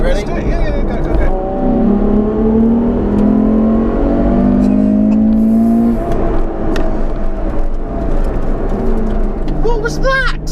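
A 769-horsepower Ferrari F12 TDF pulls flat out in fourth gear, its engine note climbing in a loud, rising wail that holds close and continuous, with a voice breaking in near the end.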